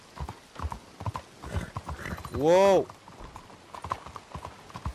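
Horse hooves gallop in Red Dead Redemption, a rapid clopping rhythm with a loud neigh in the middle; someone shouts over it.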